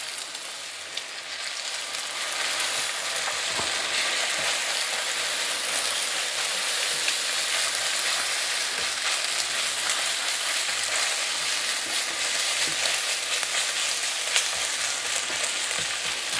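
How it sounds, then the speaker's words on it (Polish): Steady crackling sizzle of eggs frying in a hot pan with rice, continuous and close, with occasional faint pops and scrapes; no voices. "to jeszcze będzie przez pewien czas smażone, zarówno samo jajo"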